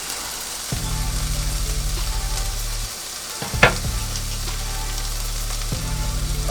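Ingredients sizzle and fry in a pan while being stirred, a steady hiss broken by the scrape of a utensil, with a short pause and a clatter partway through.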